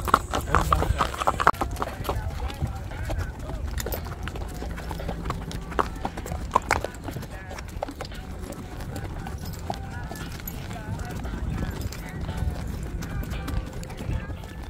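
Hooves clip-clop steadily as a horse walks along on a guided ride near Clark, Pampanga, the rhythmic knocks close by and mixed with outdoor background noise while people talk throughout.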